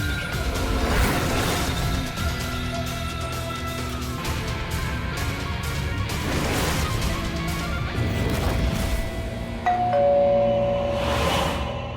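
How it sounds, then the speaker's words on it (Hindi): Doorbell rung over and over, its chimes sounding again and again through a loud, busy room, with a clear ding tone near the end. "काहे बार बार घंटी बजा रहे हैं?"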